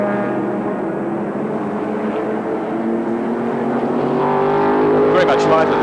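A 1984 Ford Falcon sports sedan, a lightened ex-Jim Richards car driven by Tony Hubbard, roars past at Sandown raceway, its engine note rising near the end, while a commentator talks over it.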